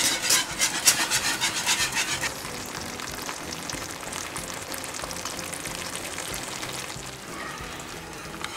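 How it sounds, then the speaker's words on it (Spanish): Béchamel for Iberian ham croquettes whisked in a pan, a continuous scraping, rubbing rasp of the whisk against the pan, rhythmic and choppy at first, then steadier and softer, close and fairly quiet, with no talk. "Mientras tanto, seguimos removiendo bien con unas varillas."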